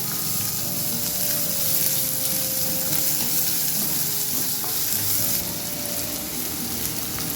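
Onions and shallots frying and being stirred in a pan for a Kerala lunch dish, a dense, steady sizzle that stays close and even throughout, with faint scraping and no talk.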